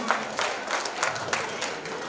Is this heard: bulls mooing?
no